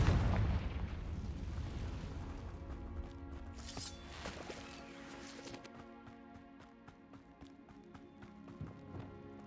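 A Confringo blasting spell bursts in the Hogwarts Legacy video game, a loud booming crack with a broad rumble that dies away, followed by scattered smaller impacts and clatter over a steady musical drone.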